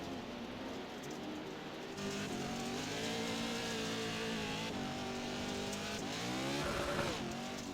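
Pro 4 off-road racing trucks battling in a pack of five on a dirt track, heard from onboard as a loud, continuous engine roar with rising revs, gear shifts and surging acceleration.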